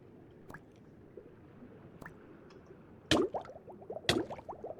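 A water elevator in a block-building video game gives off wet, squishy bubbling and gurgling sounds, with a few sharp splashy pops that get louder and more frequent toward the end.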